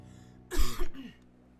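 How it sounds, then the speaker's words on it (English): A single short throat-clearing cough lands close and loud on a microphone, a burst of two quick rasping pulses against a quiet room. "I didn't mean to cough directly in the mic"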